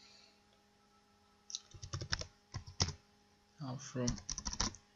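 A computer keyboard clatters as a participant ID is entered into a Kobo Toolbox survey form, two quick bursts of crisp keystrokes in a quiet room with a brief spoken word between them.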